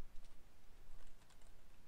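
Someone types code on a computer keyboard, the keys clicking quickly and unevenly at close range over a quiet room, with no speech.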